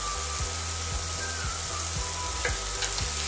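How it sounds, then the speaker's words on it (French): Shallots sauté in a hot pan with a loud, steady sizzle and hiss, with soft regular knocks from a utensil about twice a second underneath. "On va faire revenir les échalotes. Je vais les faire griller légèrement."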